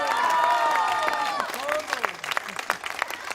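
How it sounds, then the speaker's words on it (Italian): An audience at an outdoor orchestra concert in Jesolo breaks into applause and cheers, scattered claps growing more distinct while voices and whistles ring over them. "sentito l'applauso?"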